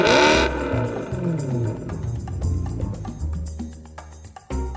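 A 2019 Audi RS3 saloon's engine is revved hard at a Eurotunnel terminal, a sharp loud blip up front followed by uneven throttle bursts, pops and clatter that fade and return.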